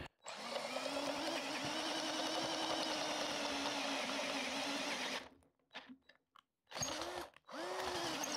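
A Parkside 20V cordless drill driver whines loudly and close in screwdriver mode for about five seconds. It then cuts out, gives a few short bursts and restarts with rising and falling motor pitch.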